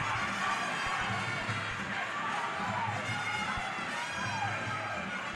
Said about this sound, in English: And now you can hear the crowd.